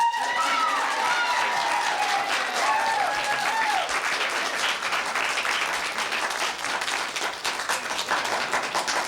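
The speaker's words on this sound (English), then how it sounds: "let's have a round of applause for the district champions" Audience applause at a 1991 district quiz bowl final honoring the Port Huron High Big Reds as champions, steady close clapping that thins out and grows more scattered toward the end.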